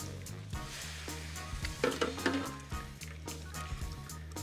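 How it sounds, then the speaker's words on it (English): Liquid is ladled into a hot pan of braised bacon and hisses into a close, bubbling sizzle, with soft splashes and a few clinks of the ladle, and no one speaks. "Ladle it right into the pan with the braised bacon."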